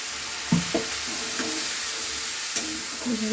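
Egg curry masala sizzling and being stirred in a pan after water is added, giving a steady fry hiss with a few soft scraping and stirring knocks.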